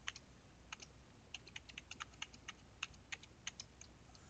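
Someone types a long password on a computer keyboard, a quiet run of sharp, irregular key clicks with short pauses, close up and with no talking.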